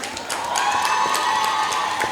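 An audience applauds and cheers for performers at a college cultural event, a dense continuous wash of clapping with scattered whoops, loud and close, without speech.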